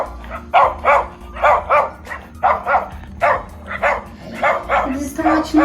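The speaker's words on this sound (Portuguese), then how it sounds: "Os cachorros estão latindo." Farm dogs bark repeatedly in quick bursts, loud and close, with a steady rhythm of several barks per second and a brief whine near the end.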